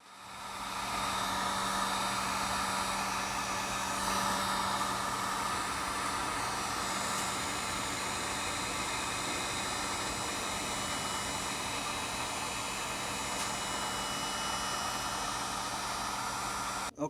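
A heat gun blows steady, loud, broadband hot air onto a seized Traxxas Nitro Revo 3.3 R/C engine, running continuously and alone from start to finish.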